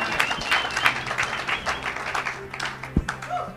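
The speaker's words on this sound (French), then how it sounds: "acclamez les soeurs" An audience at a church service applauding, a continuous patter of clapping hands mixed with some crowd noise and voices, moderately close and steady throughout.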